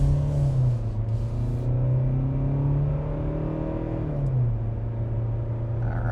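A Kia Sportage SX Prestige accelerates onto the highway in normal mode, its engine note rising smoothly under a steady low road rumble, with audible pitch sweeps as the transmission shifts.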